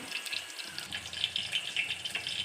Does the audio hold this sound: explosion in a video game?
no